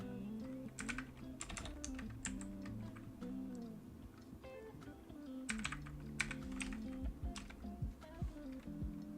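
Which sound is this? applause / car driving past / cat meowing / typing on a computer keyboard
typing on a computer keyboard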